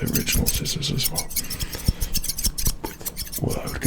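Original barbershop scissors snip in quick, close, crisp repeated cuts with an irregular rhythm, and a voice talks softly underneath.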